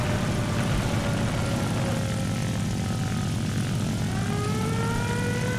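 Steady propeller engine drone of an SB2C-1C Helldiver in the War Thunder flight game, a continuous loud roar with a slowly shifting whine rising and falling across the clip, no voices.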